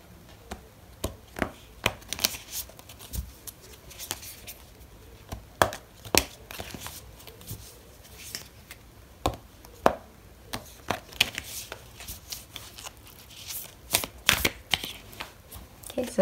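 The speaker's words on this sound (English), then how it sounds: "I'm going to pull out an oracle card for you" Oracle cards shuffled by hand for a tarot reading, a long run of crisp riffling snaps and papery flicks in irregular bursts, close and clear at a moderate level.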